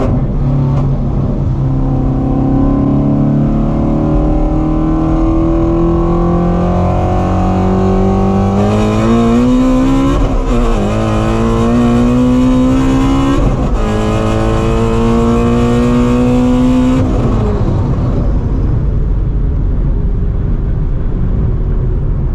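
A 700 hp Procharged Shelby GT350 and a 600 hp Procharged 2V Mustang GT roar through a hard acceleration pull, the loud engine notes climbing steadily in pitch with gear changes around the middle, then easing off near the end, with no talking.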